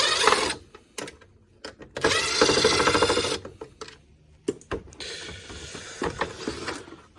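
Screws are backed out of an air conditioner being scrapped for parts, with bursts of ratcheting, grinding driver noise broken by short pauses and sharp clicks, close and fairly loud.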